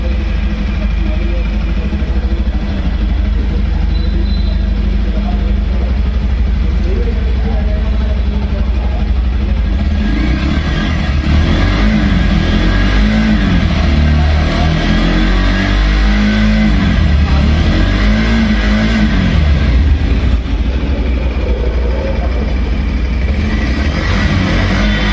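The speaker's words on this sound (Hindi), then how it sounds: "अब आप इस बाइक के इंजन का साउंड सुनिए और इसका एग्जॉस्ट नोट भी सुनिए" A motorcycle, either a TVS Apache 160 2V or a Bajaj Pulsar 150, runs with a low mid-range engine and exhaust drone that swells as it revs around the middle, steady and nearby throughout.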